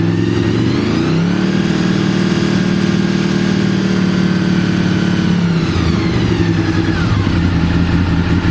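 A Honda VFR motorcycle engine revs up from a lumpy idle and holds steady near 5,000 rpm, then drops back down, loud and close with no talking.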